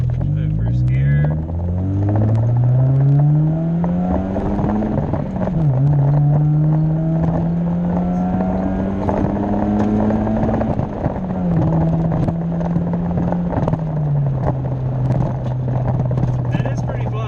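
A 1990 Mazda Miata accelerates through the gears, its engine droning as it rises in pitch through each gear, dipping at every shift, heard loudly from inside the car with people talking over it.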